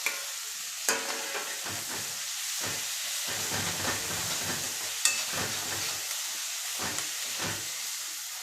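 Green chillies, curry leaves and tomato sautéing with onion for a chicken gravy produce a soft steady sizzle and hiss, broken by a few sharp utensil taps and scrapes against the pan.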